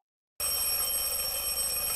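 An alarm bell starts abruptly after a brief silence and rings continuously with a bright, steady metallic tone at moderate loudness.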